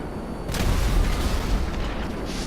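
A deep, rumbling boom of explosive cannon fire from a B-11 Strikeforce plane in Grand Theft Auto 5 erupts abruptly and rolls on as a sustained loud roar of blasts, with no talk over it.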